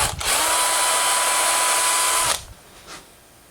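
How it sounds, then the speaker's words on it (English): A power drill whirs steadily at high speed for about two seconds drilling a pilot hole in a handmade wooden flatfish fishing lure, then cuts off, leaving a quiet room with a faint brief rattle. "So now I need to drill a pilot hole"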